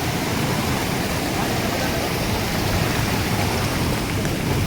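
A mountain waterfall at Harishchandragad in heavy monsoon rain gives a loud, dense, unbroken roar of rushing water and rainfall, steady throughout with no voices.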